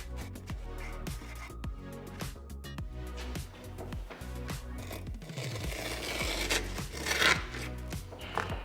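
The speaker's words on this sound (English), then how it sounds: "just gonna take the straight edge here and then score the edge of the deck to make that nice easy line to cut on" A blade scores along a straight edge on the edge of a scooter deck, giving close, repeated scraping strokes in an uneven rhythm that grow rougher and louder toward the end, with no talk.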